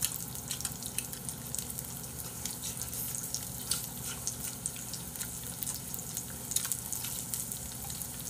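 Food frying in a pan, a steady close sizzle with bright popping crackles throughout, nobody speaking.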